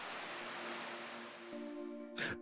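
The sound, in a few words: waterfall pouring down, Curug Omas, Taman Hutan Raya Djuanda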